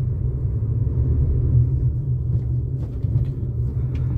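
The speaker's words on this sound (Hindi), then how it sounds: "इसके बाद ऐसे सेकंड गियर पे गाड़ी उठा देनी चाहिए।" Car engine rumbling steadily at moderate volume while driving on a single-lane highway without dividers, with a low continuous drone and faint road noise, no talking.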